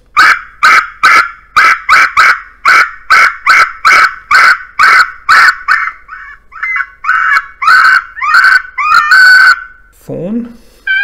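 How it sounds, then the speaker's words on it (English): An electronic fox caller plays a fox pup distress call: a rapid, loud run of sharp yelping barks, about twenty in even rhythm, growing longer and more whining toward the end, close and without talk. "Fox pup distress."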